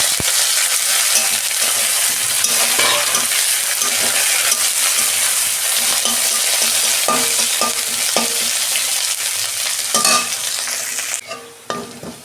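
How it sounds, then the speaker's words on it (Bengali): Onions with curry leaves fry in a pan with a steady, loud sizzle, while a utensil stirs and scrapes with occasional clinks against the metal. "পেঁয়াজ আমি একটু 2 মিনিট ভেজে নেব। এই যে পেঁয়াজের মধ্যে আমি কারি পাতা দিচ্ছি।"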